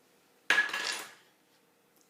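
A small spoon scrapes and clinks against a bowl while scooping out butter, one short close metallic scrape that fades within a second, followed by quiet and a faint knock at the end.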